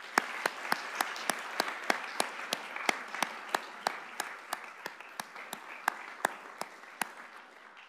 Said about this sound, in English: give a round of applause and thanks to our donors